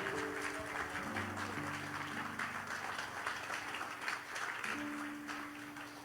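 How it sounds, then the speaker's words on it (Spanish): A church congregation applauding, a broad, diffuse wash of clapping across the hall that continues under sustained keyboard music throughout. "Póngase de pie, dele un fuerte aplauso al Rey de Gloria"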